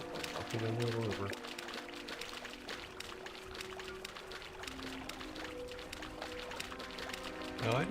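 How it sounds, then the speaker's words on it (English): A video game character wades through a river, making continuous splashing, sloshing water sounds at close range, with a voice speaking over them. "And keep walking in the river."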